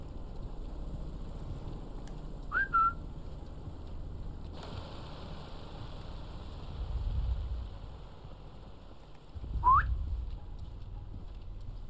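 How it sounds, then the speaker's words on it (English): In the Sniper Elite 5 video game, a character whistles to lure enemies: short rising whistle chirps sound at two separate moments over a quiet ambient game background, with no talking. "Let's do a whistle."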